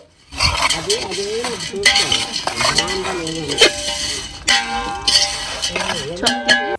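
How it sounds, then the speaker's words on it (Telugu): A spoon scrapes and clanks against a cooking pan as food is mixed, with repeated grating strokes and metallic knocks close up, while voices talk over them. "కలిపి కలిపి తెపాలకి కన్నం పెట్టేసేలా ఉంది ఈ ఏకంగా చొంచతో గోకేస్తుంది"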